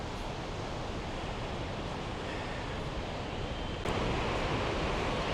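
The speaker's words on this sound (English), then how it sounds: "The sea is still pretty rough." Rough sea surf rolling onto Da Nang beach the morning after a typhoon, a steady, loud, unbroken wash of breaking waves that swells a little louder near the end, with no voices.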